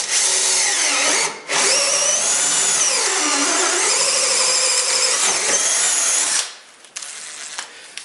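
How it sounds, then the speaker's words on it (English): An electric drill bores a hole in wood during jigsaw preparation, with a loud continuous whine that dips in pitch under load, briefly stops near the start, then cuts off and leaves a few faint clicks. "here is my drill, and I do first hole in here"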